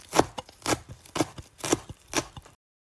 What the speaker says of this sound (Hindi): बकरी माँ रसोई में ताजी सब्जियां काटने लगी।